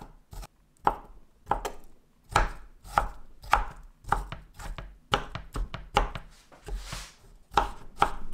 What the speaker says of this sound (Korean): 이제 감을 작은 조각으로 썰어줄 것입니다.